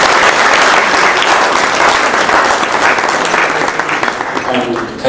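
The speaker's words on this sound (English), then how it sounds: "Can we give the acting vice chancellor another round of applause?" Sustained audience applause at a Makerere University scholarship celebration, a dense steady wash of many clapping hands lasting several seconds and tapering slightly near the end.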